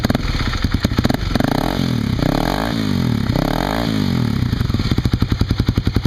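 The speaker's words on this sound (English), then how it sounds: "Rev it up a little bit here." A motorcycle fitted with an FMF exhaust blips up from a loud, close, rapid idle putter into three rising revs, each sweep climbing and falling before the engine settles back to idle.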